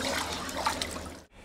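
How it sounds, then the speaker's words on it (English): A red-hot knife blade, heated to about 800 degrees Celsius, is quenched in cold water, giving a steady, close rushing and bubbling sound that stops abruptly near the end, leaving quieter background noise. "The blade is heated to 800 degrees Celsius, then quickly cooled in cold water."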